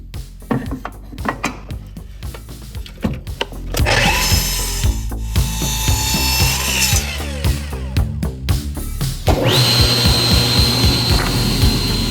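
Catalox wood cut to length for a knife handle, first with clattering, tapping handling noises, then a power saw winding up to a loud sustained whine as it slices through the dense block, ending in a steady high-pitched run.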